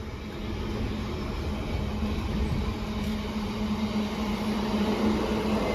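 A freight train passes at a railway location, a steady continuous rumble with a sustained low tone and broadband rolling noise holding level throughout, fairly close and with no talk.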